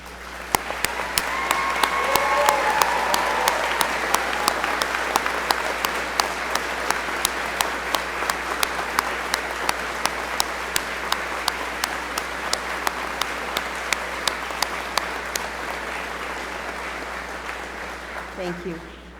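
A large crowd at a university commencement ceremony claps in long, steady applause that fills the hall, with a few sharper, closer claps standing out as the clapping slowly thins toward the end.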